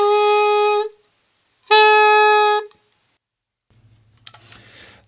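Two sustained saxophone notes played on just the neck and mouthpiece, each begun with a crisp tongued attack as the tongue releases from the reed, separated by a short pause and followed by faint low hum and rustling.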